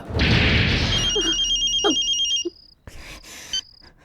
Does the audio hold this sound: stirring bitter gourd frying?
no